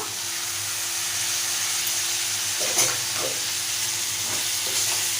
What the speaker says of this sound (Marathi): आपण चिरलेला टॉमॅटो घालूया